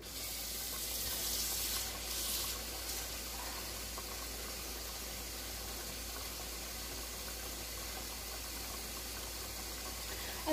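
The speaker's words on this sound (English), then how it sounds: "Now we're going to put in our vegetables and fill it with water." Tap water pours steadily into a cooking pot holding vegetables for a Puerto Rican beef summer sausage soup, a continuous close hissing rush that holds a steady level for about ten seconds with a low hum beneath and no talking.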